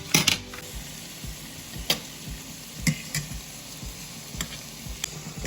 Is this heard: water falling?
no